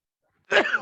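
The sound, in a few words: sneeze from an allergy to a dog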